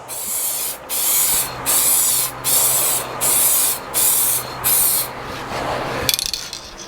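A spray gun lays a finish coat on a guitar in six rhythmic, evenly spaced hissing bursts of about half a second to a second each, close and loud, ending in a brief clatter.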